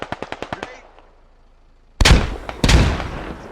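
A quick burst of rapid gunfire opens, then after a pause a heavy grenade blast booms close by, followed by a second loud explosion, in the video game Squad.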